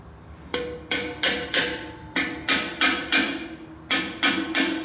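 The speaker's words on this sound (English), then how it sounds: "I'm gonna like give them some tap to taps, be sure they're seated" A hammer delivers about twelve sharp, evenly paced taps to the hardened valve tips on a cylinder head, seating them, each strike ringing briefly; the taps come in short bursts with small pauses between.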